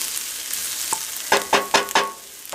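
Vegetables sauté in a pan for albondiga meatball soup, giving a steady sizzle with several sharp scraping stirs near the end; no one speaks.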